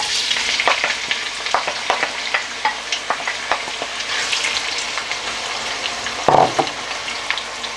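Onions frying in hot oil for a spiced meat and rice biryani, a steady close crackling sizzle broken by sharp spatters and pops, with a brief louder burst of hissing near the end.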